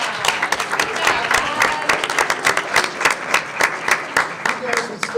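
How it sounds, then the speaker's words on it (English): A board meeting audience applauds students with lively clapping and scattered individual claps, close and fairly loud, with a few voices cheering or calling out over the applause. "Let's give these kiddos a round of applause"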